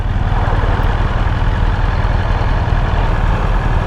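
A 2020 BMW S1000RR motorcycle engine drones loudly and steadily while riding, a dense low rumble mixed with rushing wind across the whole stretch.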